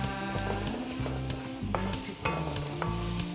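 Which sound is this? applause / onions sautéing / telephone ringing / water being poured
onions sautéing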